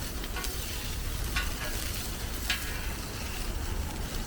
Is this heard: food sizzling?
yes